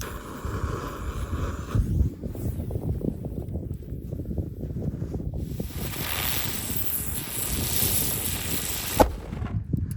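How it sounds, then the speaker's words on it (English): Ground bloom fireworks with report go off outdoors, a busy stream of crackling pops and hissing spinning bursts with a sharper bang near the end, moderately loud and continuous. "I love this type of fireworks so much"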